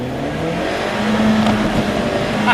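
An Alfa Romeo 4C in race mode, traction and stability control off, accelerates hard and power slides on a winding road, its engine droning loud and close with a steady pitch that climbs slightly.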